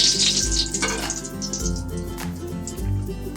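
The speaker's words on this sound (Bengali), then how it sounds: "তেলটা আমার গরম হয়ে গেছে আমি অল্প জিরে ফোড়ন দিয়েছি জিরেটা সুন্দর ভাজা হয়ে যাবে" Cumin seeds sizzle and crackle steadily in hot oil, a continuous close frying hiss with occasional sharper pops.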